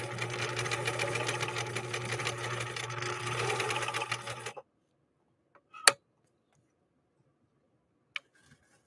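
A 1963 Husqvarna Viking 19E sewing machine stitches a zigzag with a rapid, steady mechanical clatter and hum for about four and a half seconds, then stops, followed by near silence and a couple of isolated clicks.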